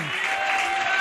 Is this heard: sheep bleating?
no